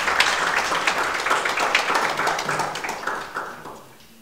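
Audience applause after an executive dialogue event, dense clapping spread across the room, steady for about three seconds then thinning and fading out.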